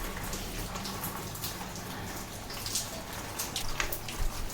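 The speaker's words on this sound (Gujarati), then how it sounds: "અને આ 2 વાગ્યાનો જો વરસાદ ચાલુ થઈ ગયો છે અને નેવા પડે ને એવા વરસાદ ચાલુ થયો છે." Steady heavy rain patters on a surface, pouring off the roof eaves, a constant wash of drops with occasional heavier splashes, no voices.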